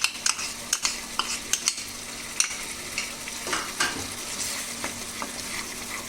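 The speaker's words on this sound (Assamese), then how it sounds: "দৈখিনি দিয়ে লগে লগে লৰাই দিব লাগে যাতে দৈখিনি ফাটি নাযায়।" Stirring sweet curd into an omelette curry in a pan: steady scraping and stirring over a soft frying sizzle, with occasional sharp utensil taps against the pan, close and moderately loud, no voices.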